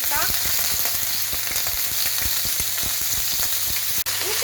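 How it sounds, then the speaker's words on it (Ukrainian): Meat sizzles and crackles in hot oil in a pan over high heat, a steady frying hiss dotted with sharp pops, close and loud. "на великому вогні потрібно м'ясо обсмажити"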